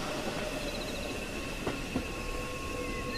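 A moving train rolls steadily at a distance, its low continuous rumble carrying faint wheel clatter and a couple of soft metallic knocks, with no voices over it.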